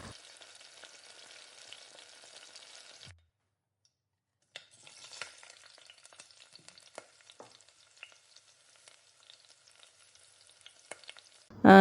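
Whole spices crackling in hot oil, including cinnamon, cardamom, cloves, poppy seeds and stone flower, a soft close sizzle that cuts out for a moment, then returns as scattered pops and light stirring before a loud knock.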